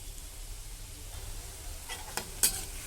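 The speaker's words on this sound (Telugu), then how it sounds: "ఇవి కొంచెము గోల్డెన్ బ్రౌన్ వచ్చేంత వరకు వేయించుకుంటే సరిపోతుంది." Spinach pakoda with onion batter fry in hot oil, a steady close sizzle joined near the end by a couple of brief utensil scrapes and clinks.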